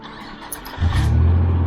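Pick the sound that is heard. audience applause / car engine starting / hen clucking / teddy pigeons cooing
car engine starting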